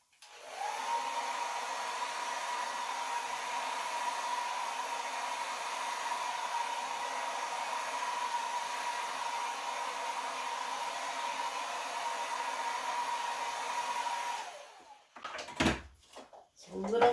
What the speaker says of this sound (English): And I'm going to push that around with my hair dryer.